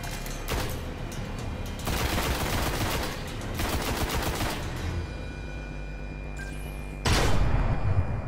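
Rifle fire from the Destiny beta shooter game rattles out in rapid automatic bursts separated by short pauses, with a final loud volley near the end.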